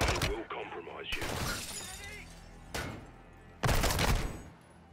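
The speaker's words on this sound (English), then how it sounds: "You can break glass for more, but it will compromise you." Glass shattering in the Call of Duty: Modern Warfare II (2022) campaign, with several sharp crashes and tinkling debris spread across a few seconds, the last impact loudest, set among game sounds and a voice.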